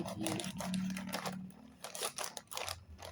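Large sticky-lined plastic bag from a women's Le coq sportif cap package crinkles and rustles up close in a dense run of crackles, with a low hum underneath and no talking.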